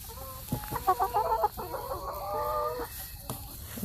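Sixteen-week-old chickens cluck and squawk close by in a run of short, repeated calls, with a longer drawn-out cackle in the middle and softer clucks continuing at the end.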